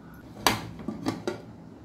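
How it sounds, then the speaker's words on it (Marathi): A cooled pressure cooker holding mutton rassa is opened, its metal lid giving a few sharp clanks and knocks, close up and alone. "कुकर थंड झालाय। झाकण काढून बघूया।"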